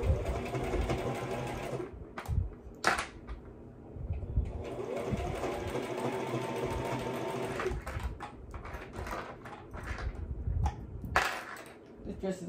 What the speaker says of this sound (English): So now I'm going to go ahead and go stitch and then back stitch.